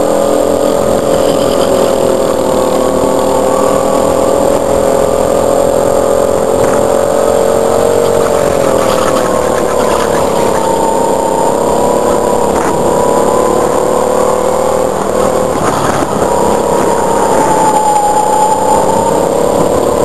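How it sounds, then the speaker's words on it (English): A go-kart engine drones steadily in a racing video game, a continuous loud buzzing whine with slight pitch rises and dips throughout and no talk over it. "I don't seem to have a very good go-kart this time"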